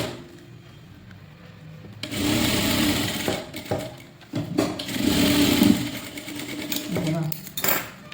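A sewing machine stitches the front part of a blouse in several bursts of rapid mechanical whirring, with pauses between runs and someone talking over and between the stitching.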